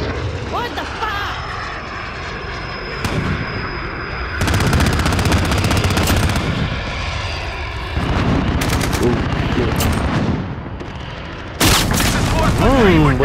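A shotgun fires repeatedly in the Head Hunting video game, with loud booming blasts and dense bursts of fire over a constant rumbling engine-like drone.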